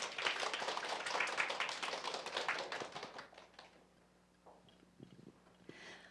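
Guests at a Korean childcare booklet launch and public campaign ceremony applaud to welcome a speaker, a lively burst of many hands clapping for about three seconds, then fading into quiet room noise with a few faint knocks.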